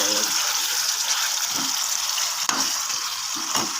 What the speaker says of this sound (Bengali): দেখতে পাচ্ছ কষানো হচ্ছে